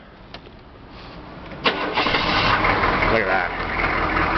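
An old GMC vehicle's engine cranks briefly, then catches with a sudden loud start and settles into a steady, rough idle, close by; someone speaks briefly over it.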